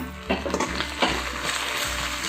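Curry leaves and fresh coriander sautéing in a hot pan, a steady close sizzle with a few scraping stirs of a spoon.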